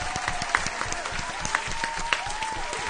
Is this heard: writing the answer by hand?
no